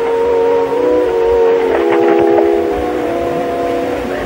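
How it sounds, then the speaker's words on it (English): A train whistle and a departing train in a 1930 film, with a sustained whistle tone over a rumbling, noisy train that keeps going after the whistle fades. "Zeke, is he leaving the train?"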